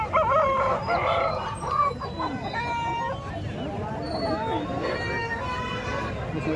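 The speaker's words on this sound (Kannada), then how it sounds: "ಇವೆಲ್ಲ ನಾಟಿ ಕೋಳಿಗಳು" Native country chickens at a busy village poultry market in Kundarapalli, with roosters crowing repeatedly and hens clucking nearby over a background of people chattering.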